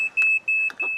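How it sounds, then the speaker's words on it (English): A smoke detector wired to a wave-powered generator sounds its alarm in a rapid series of shrill electronic beeps, close and steady, with short gaps where a voice cuts in. "He's adapted a smoke detector to sound the alarm."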